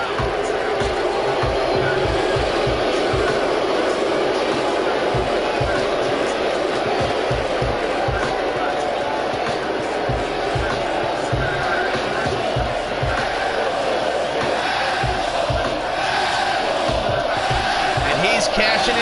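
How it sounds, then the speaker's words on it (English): Wrestling arena crowd in Atlanta jeering a challenger as he makes his entrance, a dense, steady roar of many voices with rhythmic pounding beneath, continuous throughout with a commentator's voice faintly over it. "the crowd's letting him know what they think about him here in Hotlanta"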